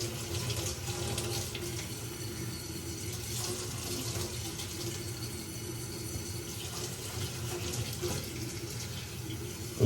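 Chunks of chicken of the woods mushroom are rinsed under a kitchen tap, the water running in a steady, close rush into the sink with no break.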